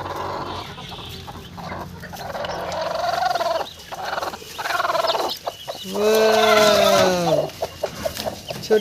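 A desi hen and her nine newly hatched chicks give clucks and calls, building to a loud, drawn-out call near the end over steady background noise.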